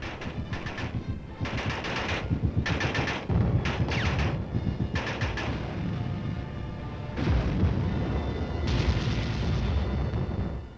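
Allied artillery bombardment in the Korean War, heard as repeated heavy booms and rolling gunfire bursts at varying distances, sustained over several seconds with no talk.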